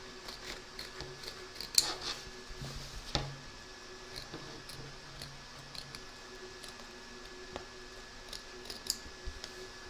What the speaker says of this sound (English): turn your hoop over and trim around the edge, taking care not to cut your stitching